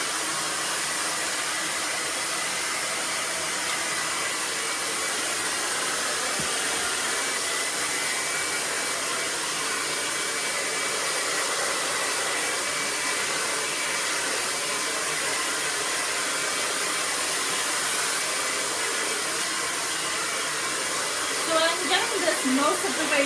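A hair dryer blows steadily and loudly while hair is dried, a continuous close whoosh lasting throughout, with a few faint clicks near the end and no voices.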